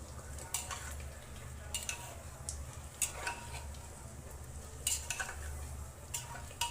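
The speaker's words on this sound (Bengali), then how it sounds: "এখন মাংস একটু কষাবো।" Meat is sautéed in a cooking pot, with a low steady frying hiss under repeated scraping and clinking stirring strokes that recur every second or so. No one speaks.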